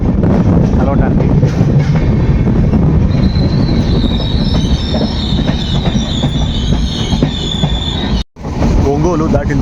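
The Vivek Express rolls into Ongole railway station with loud, steady rumbling and high wheel squeals, then a brief dropout before the clatter resumes.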